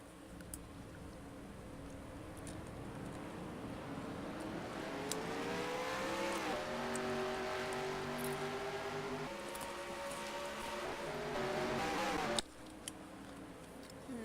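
Race cars in a sim racing video game at Auto Club, a field of engines droning and climbing in pitch together, steady and moderately loud, with revs rising through the middle before a sudden cut near the end.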